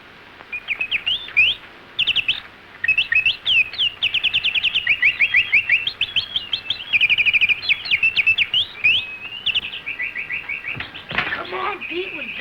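Bird chirps and whistled calls from a Little Rascals (Our Gang) comedy short, in quick bursts, loud and close, repeating in rapid runs with short pauses, ending with a brief noisy rustle.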